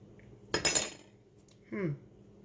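Brief clinking of a utensil against a bowl while stirring a turkey wing marinade with garlic and Dijon mustard, one short scraping burst followed by a softer sound, quiet and close.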